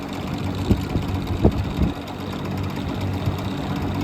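A vintage box fan, such as a Kmart K-223, Evenflow 2302 or Manning Bowman, runs on high speed at about 2000 RPM with a steady, close, low whirring drone and a few brief knocks or bumps early on.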